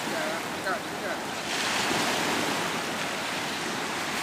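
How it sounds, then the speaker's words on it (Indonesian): Big ocean waves crashing along the Java coast, a broad, continuous roar of surf swelling louder midway, mixed with wind buffeting the microphone. "Ombaknya gede banget"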